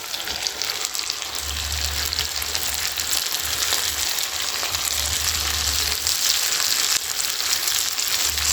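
Okra dropped into hot oil in a pot, with a steady, loud sizzle and frying crackle that runs the whole time, along with faint stirring.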